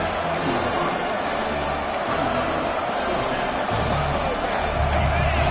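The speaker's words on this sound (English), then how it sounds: "this crowd is making it miserable on this offense" A dense, steady crowd roar fills a college football stadium during an East Carolina at NC State game, loud and unbroken from start to finish.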